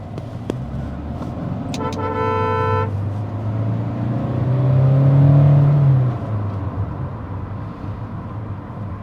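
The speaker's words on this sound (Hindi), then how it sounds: "हायर RPM पे आपको डेफिनेटली यहाँ पे इंजन नॉइस मिलेगी" A 2024 Kia Sonet HTX with the 1.5L diesel engine and manual gearbox is driven at higher RPM. The engine drones steadily and swells in the middle, with a short horn toot early on.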